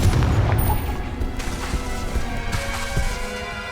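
Confringo fire spell blast in the Hogwarts Legacy video game, a loud booming impact followed by crackling, rumbling debris and fading explosive echoes.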